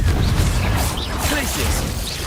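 Confringo fire spell cast in Hogwarts Legacy, a crackling, bursting blast over steady game noise, with a low rumble and a few sharp mechanical clicks in a busy, continuous mix.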